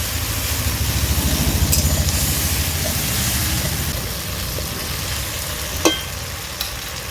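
Tomato masala stir-fried in a pan, a continuous sizzling fry with stirring scrapes and a couple of sharp utensil knocks toward the end.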